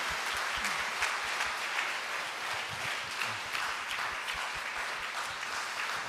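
Church congregation clapping together in sustained thanksgiving applause at a Friday late-night worship service, a dense, steady wash of many hands that holds even throughout.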